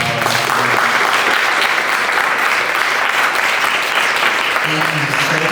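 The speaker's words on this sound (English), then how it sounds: "let's give her a round of applause." An audience at the Jamaica Reflections 2025 program gives a sustained round of applause for program creator Jolie Anderson, steady dense clapping filling the room from start to finish with some crowd noise mixed in.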